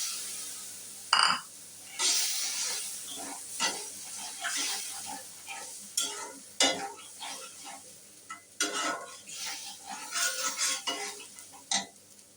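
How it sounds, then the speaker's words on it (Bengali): Spice paste with a little added water and salt being stirred in a pan, with scraping clinks of a metal spoon against the pan at irregular intervals over a low background. "তো মশলাটা ভালো মতন কষানো হয়ে গিয়েছে"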